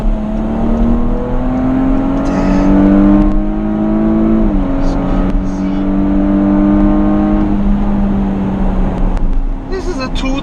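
Porsche Cayenne S SUV with a 2.9 V6 biturbo engine accelerating hard, heard from inside, its engine note climbing through shifts with a short dip between gears, loud and steady, while someone talks over it.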